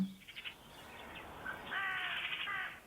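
A magpie gives faint, harsh chattering calls in a quiet outdoor setting, a short soft note at first and then a longer rasping burst, distant and low in level.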